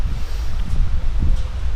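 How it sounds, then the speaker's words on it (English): Strong wind buffets the microphone in low, rumbling gusts, with faint rustling on top and no voices. "It's going to be really windy."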